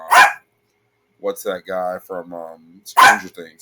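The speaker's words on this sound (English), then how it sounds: "And I'm sorry about my dog." A pet dog barks in a home, with sharp bursts near the start and again around the three-second mark, close and loud, while a person talks between the barks.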